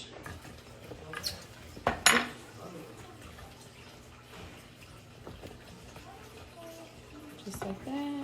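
Vegetables tossed with garlic in a baking dish give a few clinks and scrapes, with one louder clatter near the start, over a quiet background with faint voice.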